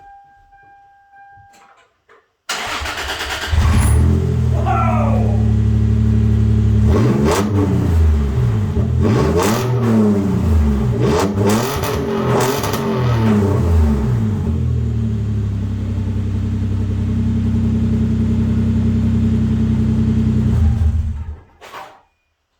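Toyota Tacoma engine with the muffler cut off starts up and revs hard, a loud, raw rumbling roar with rising and falling throttle blips before settling into a steady idle and cutting off; a brief exclamation comes near the start.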